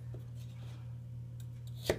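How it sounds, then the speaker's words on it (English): A santoku knife cuts celery in a quiet kitchen, a steady low hum underneath and a single crisp chop against the board near the end. "when I'm cutting up celery, make a long cut here"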